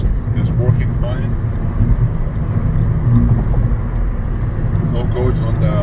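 A turbocharged car cruises at 60 mph on the 635 highway, its steady engine drone and road rumble filling the cabin continuously from start to finish.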